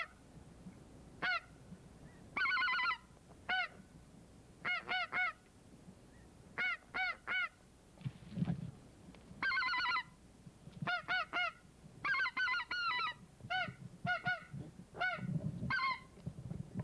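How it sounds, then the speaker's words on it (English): Geese honk in repeated bursts of two to four calls, some close and loud, others fainter, over a quiet outdoor field during a goose hunt, with occasional low rustling between calls. "that's a goose, Dr. Schumacher."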